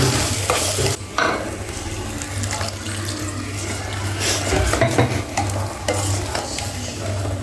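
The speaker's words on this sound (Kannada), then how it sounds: "ಚೆನ್ನಾಗಿ ಫ್ರೈ ಮಾಡ್ಕೋಬೇಕ್ರಿ." Coriander powder frying and being stirred in a pan for a mushroom dish, a steady loud sizzle with scraping stir strokes and a low background hum throughout.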